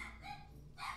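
Dog named Misty barking at home, one or two short, sharp barks heard faintly from a distance over steady background hum.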